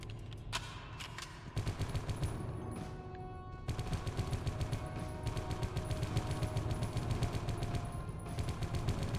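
Sustained automatic gunfire in the video game Geist, a dense, continuous rattling barrage that stays loud and steady throughout with no pauses.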